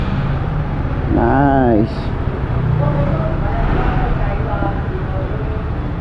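A 2024 Monarch motorcycle engine runs at a steady idle, with a rising whine near the start and a continuous close rumble throughout, while someone briefly speaks over it.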